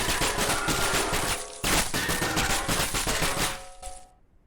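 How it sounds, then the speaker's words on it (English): Video game firearm in fully automatic mode, a dense continuous burst of rapid gunfire with a brief break, then a second sustained burst that cuts off abruptly. "we can also go into fully automatic mode, which will just keep firing until the magazine is empty"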